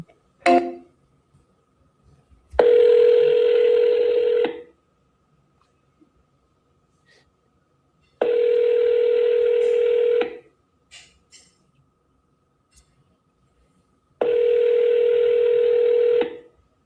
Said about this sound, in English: Your call has been forwarded to voicemail. Nobody want to pick up.